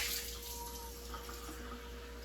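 Hot water running from a kitchen sink tap during yeast roll preparation, a steady, quiet hissing stream throughout with no talking.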